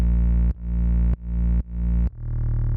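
A sustained, harmonically rich distorted 808 bass made in Serum for a Christmas pop song, loud and droning, ducks sharply four times where a sidechained kick pumps it before it swells back.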